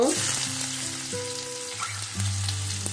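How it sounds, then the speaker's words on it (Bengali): Finely chopped onions dropped into hot oil in a wok crackle and sizzle steadily up close, with sustained tonal sounds over the frying. "দুটো পেঁয়াজ কুচিয়ে নিয়েছি, ছোট ছোট করে দিয়ে দিলাম। পেঁয়াজটা একটু ভেজে নেব।"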